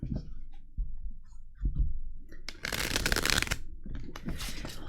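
Tarot cards being shuffled by hand during a love reading, a dense papery riffling burst in the middle followed by further softer shuffles and handling, close and with no talk.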